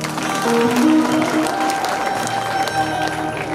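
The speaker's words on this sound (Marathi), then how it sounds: "खरंच टाळ्या वाजवा" Listeners at a Bhagavat discourse during a Navratri festival clap together in a steady burst of applause, loud and continuous, with a drawn-out tone and voices faintly underneath.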